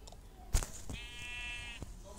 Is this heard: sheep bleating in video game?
yes